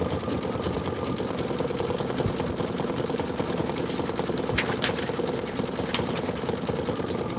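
An embroidery machine stitches a Kimberbell Enchanted Winter design with a continuous, even mechanical whir and rapid needle rhythm, close and steady throughout.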